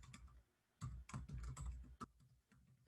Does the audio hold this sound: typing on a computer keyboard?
yes